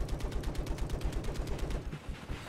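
Rapid automatic gunfire in Battlefield 4 multiplayer on Xbox 360, a loud sustained burst of evenly spaced shots that cuts off after about two seconds.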